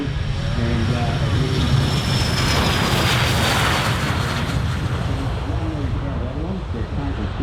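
A Conair RJ-85 water bomber, Bomber 391, roars overhead at a water bombing display, a loud steady jet engine rumble and whine filling the whole stretch while a commentator talks over it.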